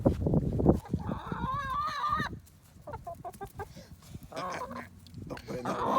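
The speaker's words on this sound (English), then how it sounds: "Feed it to the chickens, not to Michael." Chickens cluck and squawk near and loud in excited bursts while being fed bread, with a few calls standing out, and people talk among them.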